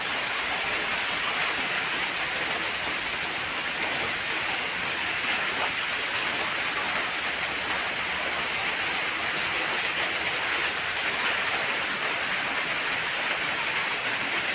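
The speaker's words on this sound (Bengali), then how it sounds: "জোরে বৃষ্টি পড়ছে।" Heavy rain pours down in a loud, steady hiss that stays even throughout, with no breaks and no voices.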